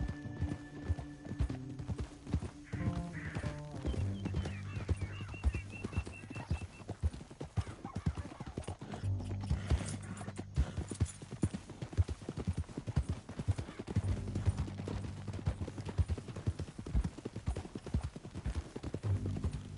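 In the video game Red Dead Redemption II, horse hooves clip-clop in a quick, steady rhythm for a long stretch, with a horse neighing partway through and some faint voices and music underneath.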